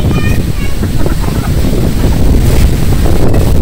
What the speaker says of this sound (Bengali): ও প্রচুর বাতাস ছুটে গেছে,